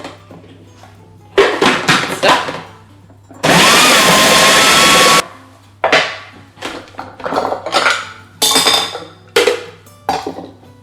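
A food processor blitzes celery in a home kitchen in one loud, roaring burst lasting under two seconds, framed by close clatters and knocks of bowls, lids and utensils before and after.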